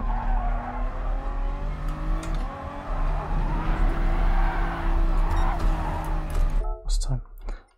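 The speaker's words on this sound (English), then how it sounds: "Just graze the curb and you can hear the tyres squealing for mercy" Tires screech in a long sustained skid over a roaring engine in the racing video game GT Sport at Dragon Trail Seaside, as the car grazes a curb; loud and close, with a voice talking over it before it cuts off abruptly.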